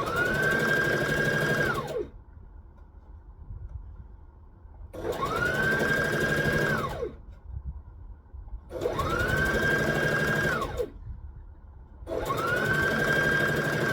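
An overlocker runs fast through fabric in four loud, even bursts of about two seconds each, its motor whirring up and down, with short quiet pauses between runs.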